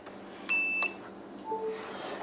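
A Techoss P300W 300-watt portable power station gives a single clear electronic beep as it is switched on, a steady tone lasting about a third of a second, followed by faint background hum.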